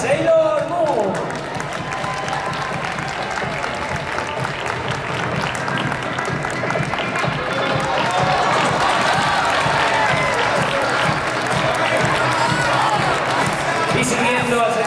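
Audience applause and crowd noise at a cosplay runway show at Japan Weekend Valencia, as a contestant dressed as Mamoru Chiba from Sailor Moon is presented; steady, sustained clapping and cheering fill the whole stretch, mixed with crowd chatter.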